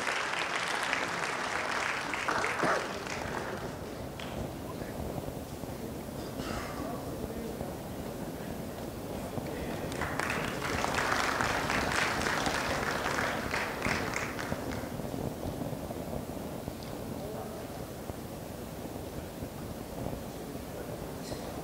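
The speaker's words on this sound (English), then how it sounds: "a huge round of applause, ladies and gentlemen." Sustained audience applause at a plenary lecture session rolls on for about twenty seconds, swelling and easing in waves, with a speaking voice and some microphone noise mixed in underneath.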